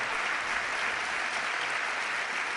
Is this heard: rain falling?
no